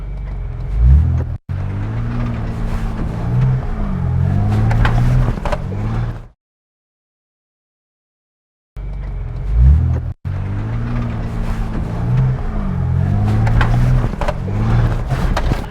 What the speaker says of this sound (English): So now I'm going to try a little bit more aggressive drive.